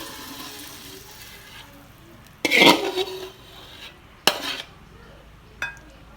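Stir-fried shrimp with stink beans in a southern Thai home recipe, scraped and poured from a pan onto a plate: a loud burst of metal-on-dish clatter and scraping, then two shorter clinks, with no talk.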